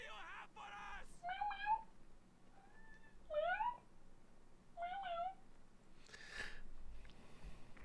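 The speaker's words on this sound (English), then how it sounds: "He's a little talkative today, my dear cat." A pet cat meows repeatedly up close, about four drawn-out, rising-and-falling calls spaced a second or so apart, with a voice talking between them over a quiet background.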